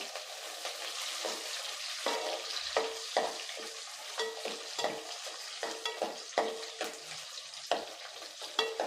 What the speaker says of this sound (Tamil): ஒரு பத்து பன்னெண்டு பல் பூண்டு சேர்த்துக்கலாம் இது கூடவே ரெண்டு பச்சை மிளகாய் கொஞ்சமாக கருவேப்பிலை எல்லாத்தையும் போட்டு நல்லா வதக்கி விட்டுடலாம்